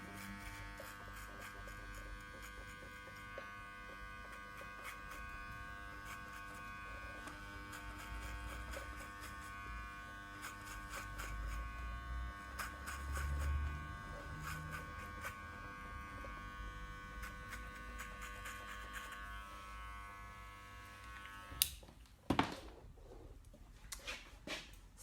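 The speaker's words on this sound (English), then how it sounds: "that is going to be the easiest way to clipper the sides" Electric hair clippers buzz steadily while cutting the back and sides of a men's haircut, a continuous close hum with slight changes as the blades move through hair, ending in a few handling knocks.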